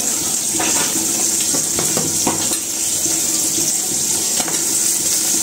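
Water poured and mixed into ground turmeric, cumin, coriander, chili powder, salt and green chilies for a puti fish curry, a steady running, splashing wash with a few clinks throughout.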